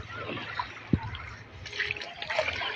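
Seawater laps and trickles around a wheelchair submerged in the sea, soft irregular splashing and dribbling at close range, fairly quiet with a single sharper splash.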